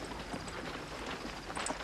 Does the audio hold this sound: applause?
no